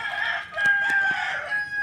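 A rooster crows once outdoors near a coop in the Philippines, a loud, strained cock-a-doodle-doo that lasts nearly two seconds, close to the listener and with no talking over it.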